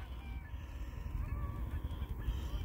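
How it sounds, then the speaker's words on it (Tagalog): Wild geese honk faintly in the distance over a canola field, several soft calls scattered through a steady low background rumble, with no talk. "wild geese. Naririnig yung mga huni nila"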